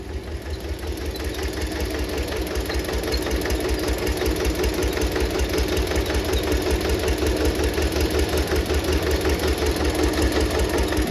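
A tractor's diesel engine chugs steadily at idle, its rapid regular knocking thump close and continuous throughout.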